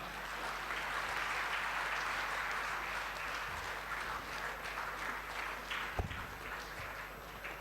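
Audience applause fills a hall at an engineers' conference, with steady, sustained clapping from a large crowd and a single sharper thump near the end.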